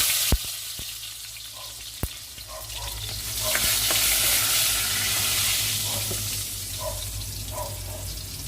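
Chopped garlic going into hot oil for a Filipino ginisa of corn, squash flowers and mixed vegetables: a few sharp clinks of a utensil against the pan, then a loud, continuous sizzle that swells and holds steady, with faint clatter and no voices.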